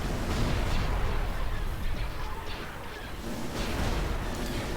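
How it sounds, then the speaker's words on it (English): Starfighters strafe a base in the space strategy game Empire at War: a dense, continuous barrage of blasts and gunfire rumbles steadily at a constant loud level, with no pauses. "You're just going to be watching starfighters strafing this base."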